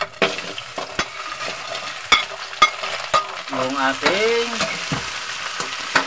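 Crab with onion and garlic sautéing in a hot pan: steady close sizzling and frying under repeated sharp clacks of a utensil against the pan, with a brief squeaky scrape midway, no voices.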